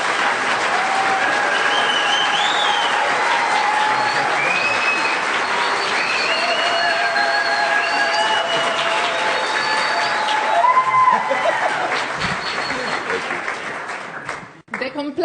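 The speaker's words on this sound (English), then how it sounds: "get a big round of applause to the artisan of the conference, Chris Kirsten." Sustained, loud applause from a large conference audience at Artisans of the Grassland, filling the room for about fourteen seconds before tapering off and ending abruptly.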